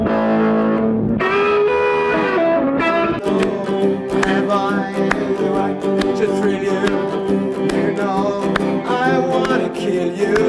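An electric guitar plays through a Vox AC30 amplifier with distortion, loud and close. Sustained, gritty chords and notes ring out continuously from start to finish with no talking.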